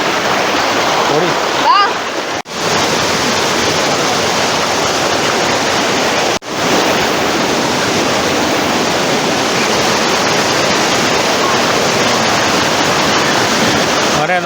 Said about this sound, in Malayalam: ഇവിടെയാണ് വെള്ളച്ചാട്ടം.